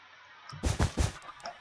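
Chickens in Minecraft, three quick low clucking bursts close together, fairly clear over a quiet background.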